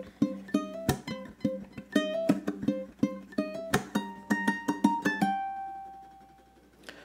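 Single-note ukulele melody opening a 12-bar blues theme, played at a brisk tempo: a run of plucked notes with a few sharp percussive accents, ending on a longer ringing note that fades out.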